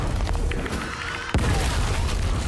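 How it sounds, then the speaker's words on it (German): Deep booming explosions from the video game Gears Tactics roll continuously, with a sharper blast midway standing out loud over the dense low rumble. "Kick sie weg, bevor sie explodieren."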